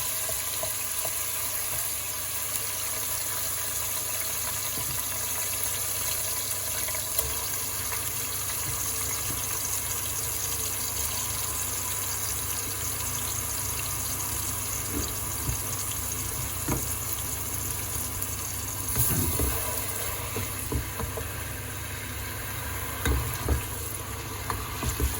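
Onions fried in hot oil make a steady, dense sizzle that holds for the whole stretch, with occasional stirring clinks near the end and no talking.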